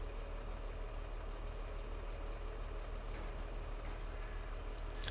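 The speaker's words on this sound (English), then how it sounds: "So we turn the tractor on." A tractor engine idles steadily in Farming Simulator 22, a low continuous rumble with no speech over it.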